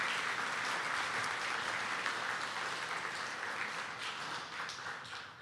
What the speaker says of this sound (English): So let's just give them another round of applause.